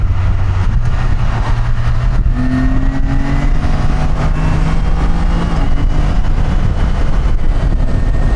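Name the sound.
car driving past on road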